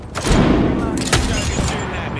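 Apex Legends combat gunfire, a dense burst of rapid shots and booming impacts over about two seconds, loud and close, mixed with game voice chatter.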